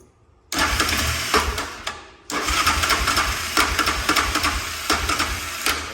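Honda Fourtrax 350D ATV, with a weak starter, cranks briefly and then fires, settling into a loud, close idle. The engine dips and cuts out for a moment before catching again and running steadily with uneven pulses.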